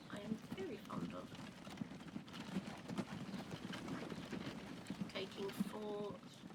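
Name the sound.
horse and cart clip-clop in the video game Transport Fever 2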